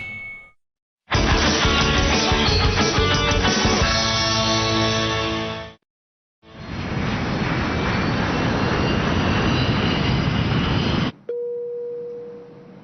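A cartoon aircraft in a Beyblade animated series comes in to land, a loud, steady jet-engine roar heard in two long sustained bursts separated by a short gap, with no speech over it.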